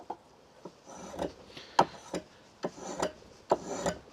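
A Stanley 51 spokeshave takes slow, tapered shavings from a piece of wood. Each stroke is a short, dry rasp, repeated irregularly at close range with quiet pauses between them.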